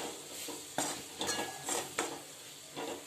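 A pan of vegetables dusted with gram flour is stir-fried for a tiffin dish, a low steady sizzle punctuated by several metallic spatula scrapes against the pan.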